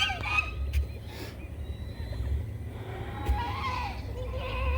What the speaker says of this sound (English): He's such a pretty rooster.